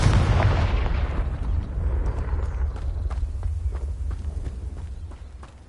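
A Confringo fire spell blasts in Hogwarts Legacy, a loud close boom that rumbles and fades slowly, with small crackles and pops scattered through the tail.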